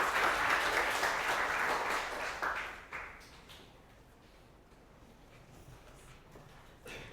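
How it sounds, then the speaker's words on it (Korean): Audience at a Korean design seminar applauds a speaker's introduction: full crowd clapping for about three seconds, then tapering to sparse scattered claps and a quiet room, with a brief final burst near the end. "박수 부탁드리겠습니다."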